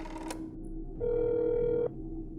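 In the game That's not my neighbor, a single dial-tone beep is followed by a steady telephone ringing tone lasting about a second, clean and close, with a quieter hum underneath.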